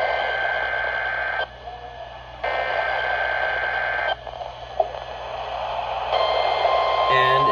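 A weather radio plays the alert tones for its required weekly test, activated by a low-power FM transmitter. The long steady tones come in two blocks separated by short gaps, then a shift to a different signal near the end.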